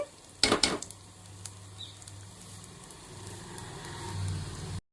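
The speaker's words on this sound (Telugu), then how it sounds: "సేమియా అనేది ఇలా బ్రౌన్ కలర్లోకి వచ్చేదాకా వేపుకోవాలండి నెయ్యిలోని" Vermicelli (semiya) browning in hot ghee in a pan for payasam, a steady close sizzle with a burst of stirring clatter near the start and the frying hiss swelling again toward the end before cutting off.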